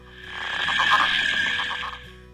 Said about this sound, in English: Northern Leopard Frogs,